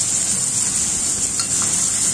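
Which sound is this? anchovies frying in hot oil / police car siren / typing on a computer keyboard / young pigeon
anchovies frying in hot oil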